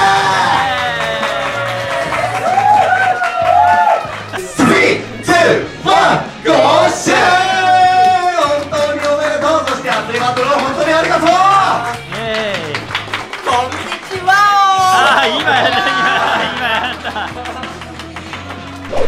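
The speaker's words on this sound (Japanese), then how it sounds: "もう一度大きな拍手" Crowd at a Beyblade tournament claps and cheers loudly, with yells and shouts rising over the applause in bursts, while voices call out and music-like tones run underneath.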